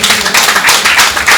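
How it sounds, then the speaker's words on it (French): A live audience clapping for themselves at a French talk event, a loud, dense burst of applause over a short stretch with no voices. "Vous pouvez vous applaudir vous-même."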